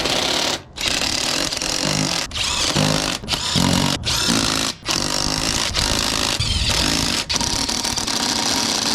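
Half-inch drive power tool spinning a 21 socket on an extension during Toyota Land Cruiser maintenance, loud close whirring bursts with brief gaps between them.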